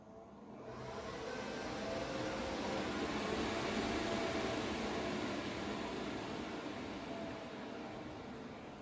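A Dell PowerEdge 840 server powers on, its fans spinning up into a steady, loud broadband whoosh that holds for several seconds with no talking.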